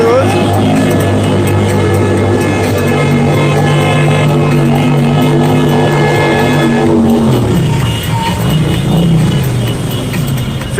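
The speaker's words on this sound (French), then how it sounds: "C'est sympa le moto qui fait la bruit comme ça." A motorcycle engine revs loudly up close amid a lively crowd at a hospital visit, its steady pulsing drone dropping off after several seconds into mixed outdoor bustle.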